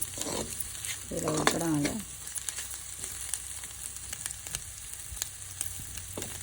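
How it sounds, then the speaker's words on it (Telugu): Eggs sizzling and frying in a pan for a spring onion curry, a steady close crackle with a brief burst of stirring and scraping near the start. "చూడండి ఎగ్స్ అయితే కాంప్లీట్ కుడుతుంది"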